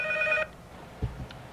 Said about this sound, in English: There, the phone was ringing.